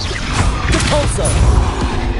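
A Repulsor spell cast in the video game Hogwarts Legacy lands as a loud, dense crashing blast with a rumbling low end. The burst sustains for about two seconds amid ongoing combat noise.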